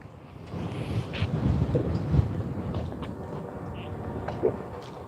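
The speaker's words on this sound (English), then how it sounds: "It's really windy right here." Chopped beans and carrots sizzle and crackle steadily in a hot pan over low heat, broken by a few seconds of complete silence before the frying resumes with an occasional clink.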